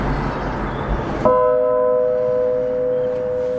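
A single church bell, chimed by an Ellacombe apparatus, rings once, struck close by, its bright metallic tone lingering and slowly fading over a noisy background.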